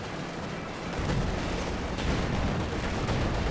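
Tank shells slam into a Panzer IV in the video game Company of Heroes 2, a continuous roar of heavy impacts and booming battle noise that swells louder after the first second.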